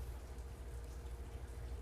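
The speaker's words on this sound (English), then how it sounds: "If you can hear the raindrops in the background" Steady rain falls outdoors, a dense constant patter of raindrops with low rumble, continuous and moderately loud throughout with no speech.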